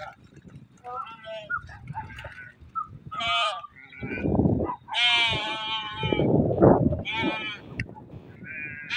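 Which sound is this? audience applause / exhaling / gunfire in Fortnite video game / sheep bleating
sheep bleating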